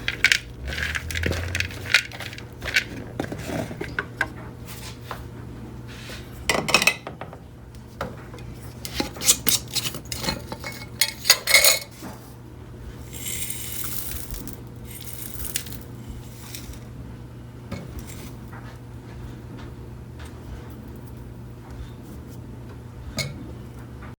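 Pumice poured and mixed into potting mix for hoya plants, gritty clattering and rattling bursts of small stones tumbling and scraping, intermittent and close with quieter gaps between pours.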